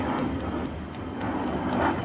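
Airplane passing overhead outdoors at a backyard cookout, a steady broad engine roar filling the short stretch with no talk.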